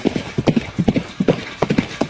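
Horse hooves clip-clopping in a video game, a quick steady trotting rhythm of sharp close knocks that runs loud and continuous throughout.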